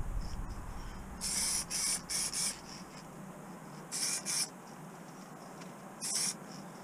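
Short hissing bursts of spray paint on a Tamiya Scania RC truck chassis, several quick close puffs in a cluster, then a pair, then a single burst, over quiet room noise.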